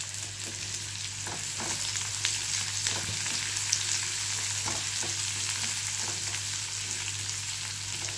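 Three small onions frying lightly in a pan give a steady, close sizzle with soft stirring scrapes and occasional clicks, running continuously with no talking.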